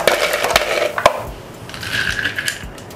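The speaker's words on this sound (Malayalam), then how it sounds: "ഇതുപോലെ ഐസ് ഇതിനകത്ത് ഇട്ട് കൊടുക്കുക." Ice cubes drop into a plastic bottle for a homemade bottle air cooler, making a few sharp clattering knocks followed by lighter rattles, fairly close and with no talking.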